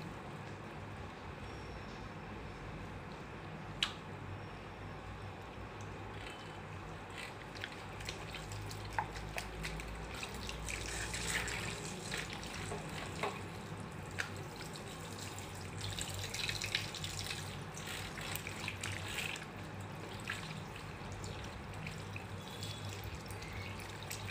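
Water runs steadily from a salon basin tap while a customer's hair is rinsed after colouring, a continuous close hiss with faint splashing and no talking.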